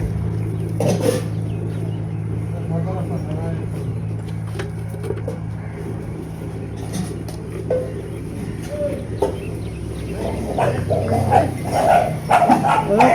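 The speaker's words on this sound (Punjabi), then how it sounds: "ਬਿੱਲੂ ਨੂੰ ਬਚਾ ਆ ਕੁੱਤੇ ਆ" Dogs bark in short bursts, moderately close, amid outdoor background noise and a low steady hum.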